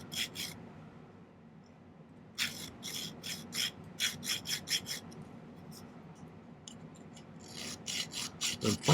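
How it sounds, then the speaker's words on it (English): A hand file rasps back and forth, cutting a notch into silver wire for a pendant, in clear bursts of repeated strokes separated by short pauses, close up and fairly loud. "I'm filing a notch here to make it so I can bend this kind of at a sharp angle here"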